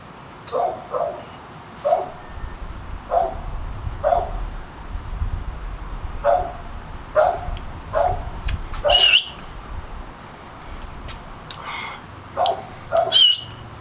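A dog barks at a neighbor outdoors, repeated sharp single barks spaced about a second apart over and over, fairly close, with faint bird chirps in the background.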